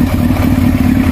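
A 1999 Yamaha R1 with about 88,000 km runs loud and close, its engine throbbing in a fast, even rhythm as it revs briefly.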